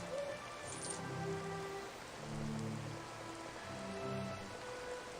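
Steady rain ambience in the video game Flare: Empyrean, a soft even patter of drops on surfaces under faint tonal orchestral music, constant and quiet with no talking.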